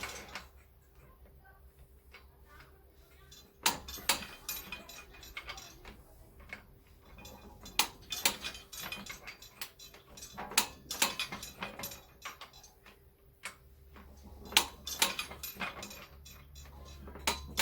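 Ratcheting clicks and metallic taps come from a torque wrench tightening the six wheel nuts of a Volkswagen Polo to 60 Nm, arriving in scattered, close bursts over a low hum.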